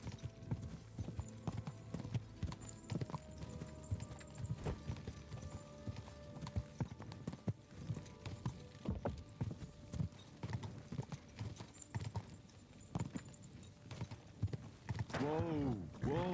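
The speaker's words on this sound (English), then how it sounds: "Horse got good stamina now." Horse hooves clip-clop steadily and close by at a brisk pace, with a neigh near the end and some talk over the top.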